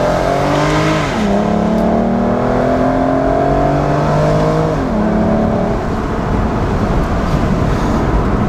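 A 2006 Aston Martin DB9 Volante convertible accelerates hard along a back road, its engine note rising through two gear changes with drops in pitch, loud and close and continuous throughout.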